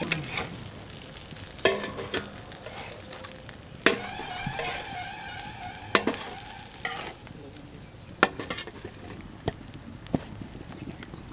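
A capsicum and egg omelette cooking in a pan, with a soft sizzle broken by sharp scraping and stirring strokes and a few clinks of a utensil against the pan, heard without any talking.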